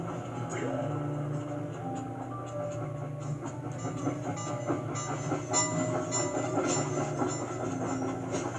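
Iron Horse train in the Sly 2 video game, a continuous rumbling run with rhythmic clickety-clack of wheels and a faint hiss, steady and moderately distant.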